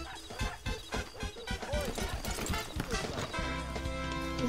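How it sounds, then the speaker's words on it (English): Horse hooves clip-clop in rapid, rhythmic beats in the video game Red Dead Redemption 2, mixed with game sounds and a steady tone near the end, while people talk over them. "Is this like the basic horse that you get?"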